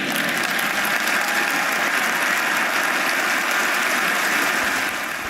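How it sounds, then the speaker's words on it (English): A church audience applauds in sustained, dense clapping that stays steady and loud throughout, with no break or talk over it. "I'm going to bring down the level of the applause here, but the applause went on and on and on"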